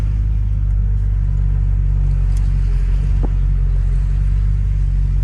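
A 1969 Lincoln Continental Mark III cruises along with a steady, loud low rumble of engine and road noise, plus a couple of faint ticks, and no talk.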